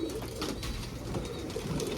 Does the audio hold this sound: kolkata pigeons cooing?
yes